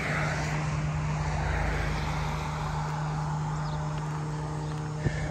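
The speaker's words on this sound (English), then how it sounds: "There's that power plant making all that noise." A steady, loud industrial hum and roar from a nearby power plant fills the air outdoors, with a constant low tone running throughout and a brief click near the end.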